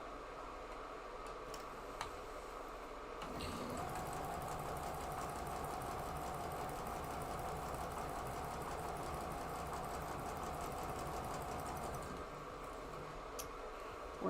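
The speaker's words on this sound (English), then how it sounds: "We're just sewing up some border pieces here for a quilt we're putting together." A sewing machine stitches quilt border pieces at low volume, running in a steady, fast ticking whir for about nine seconds with quiet stretches before and after.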